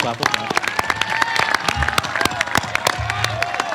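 Graduation audience clapping at a high school ceremony, with sharp individual claps standing out close by over a crowd backdrop and scattered voices and shouts mixed in.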